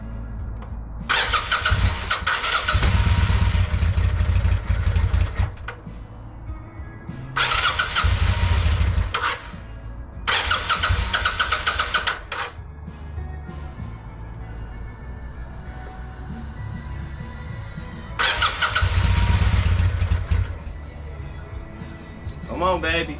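A 1996 Kawasaki Vulcan 800 motorcycle cranks in several loud bursts of starter whir separated by pauses, then catches and settles into a steady idle, with someone talking over parts of it.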